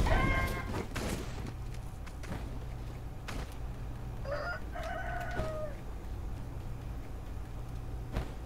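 A chicken crows in the video game Sekiro, a few short harmonic calls rising over steady low game noise, with other effects around them.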